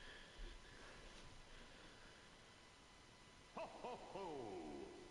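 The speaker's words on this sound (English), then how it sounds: "I love how they have random bird noises in the loading" Faint ambient bird calls play over quiet background hiss on a Crash Team Rumble loading screen, with a few soft hoots near the end.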